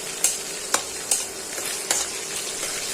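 Onion frying in hot oil with cardamom, cinnamon and bay leaf, a steady close sizzle broken by a few sharp clicks and scrapes as the pan is stirred, with no talking.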